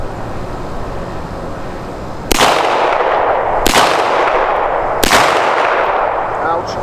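Chinese-made C96 pistol fired at a shooting range: three loud, sharp shots spaced about a second and a half apart, each followed by a ringing, decaying echo.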